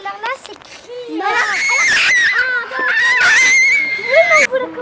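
Children at a school celebration scream loudly and shrilly in a sustained burst, with kids' voices and chatter around it.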